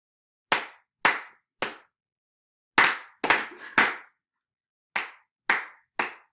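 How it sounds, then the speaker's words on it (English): A person claps a rhythmic pattern of sharp, close hand claps in three groups: three spaced claps, a quicker cluster of three or four, then three more, with silence between. "have my mother clap a pattern and we will follow her"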